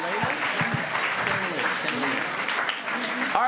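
A theatre audience applauds Ken and Elena at a musical show, a continuous patter of clapping held at an even level, with voices talking over it throughout.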